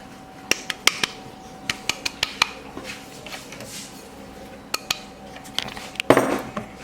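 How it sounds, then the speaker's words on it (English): A whisk beats margarine and caster sugar in a bowl, giving sharp, irregular metallic clicks and taps against the bowl's side, with a brief busier flurry of scraping near the end. "And whisk until a smooth paste type thing forms"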